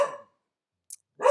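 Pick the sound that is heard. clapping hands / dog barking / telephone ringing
dog barking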